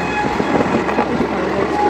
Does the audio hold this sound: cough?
no